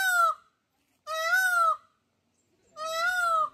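Peacocks call at Tirupati zoo: three loud, drawn-out wailing cries, each about half a second to a second long, come in clear separate bursts with quiet gaps between them and no talking.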